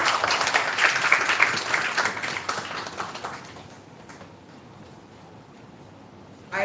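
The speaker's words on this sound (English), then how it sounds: "A round of applause, please." Applause from an audience at a live bioethics session as a chancellor is seated on the dais: dense clapping for about three seconds that thins and fades, leaving quiet room tone before a sudden burst at the very end.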